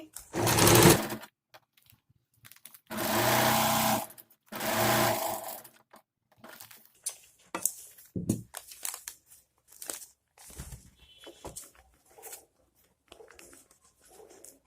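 Sewing machine stitching palazzo pants in loud runs of whirring motor noise, one brief burst followed by two longer stretches, then quieter scattered handling clicks and rustles of fabric.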